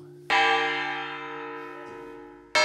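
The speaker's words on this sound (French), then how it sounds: "Il teste avec jubilation la qualité musicale de la cloche" A restored historic church bell being struck, ringing alone with a bright clang and a long, slowly fading hum, then a softer touch and a fresh loud strike at the end.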